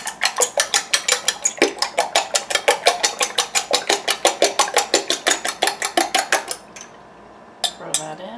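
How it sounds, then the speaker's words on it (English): A whisk or fork rapidly beats two eggs in a bowl, a long run of quick, even metallic clinks against the bowl that stops abruptly, followed by a few faint clatters and shuffles. "now we're going to add two eggs. Let's just beat them up."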